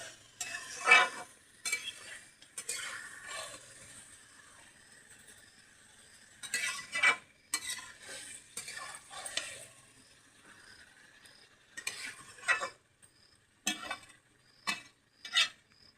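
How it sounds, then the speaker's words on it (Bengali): Desi chicken is stir-fried and braised in a pan, with repeated bursts of spatula scraping and clinking against the metal over a faint sizzle, irregular and close, and no talk. "মাংসটা ভালো করে কষাই নিতে হবে বন্ধুরা।"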